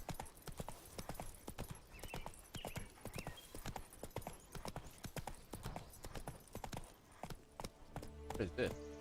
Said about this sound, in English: Gotta move on, you stupid horse.